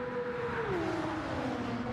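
GR3 race cars accelerating at the Nürburgring Nordschleife in a racing video game, a continuous engine whine that sweeps down in pitch as the cars pull through, with no voices.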